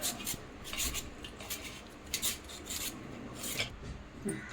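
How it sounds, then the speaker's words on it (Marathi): A sweet potato is peeled with quick, scraping rasps in short irregular bursts, close and fairly quiet, with no talking. "आपल्याला सर्वात प्रथम हा रताळ्याचा किस करून घ्यायचा आहे साल काढून घेऊया आपण या पद्धतीनं"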